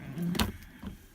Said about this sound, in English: This is a drawer.